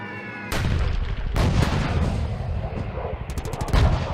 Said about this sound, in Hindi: शुरुआत में दुश्मन की तरफ से भारी गोलीबारी की गई